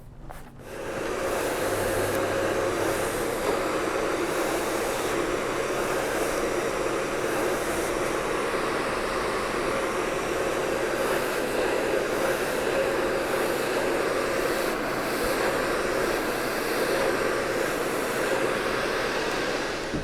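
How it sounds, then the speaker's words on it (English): A hair dryer blows hair straight during a barbershop cut, a loud steady airy roar that starts abruptly and runs continuously without break, close by, with no talk over it. "I'm gonna run through it, just kind of blow dry it straight"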